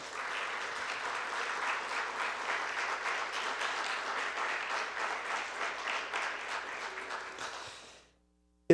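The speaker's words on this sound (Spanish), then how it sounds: "Les damos un fuerte aplauso" A lecture audience gives a welcoming round of applause to a guest professor. The dense, steady clapping lasts around eight seconds, then thins and stops abruptly into silence.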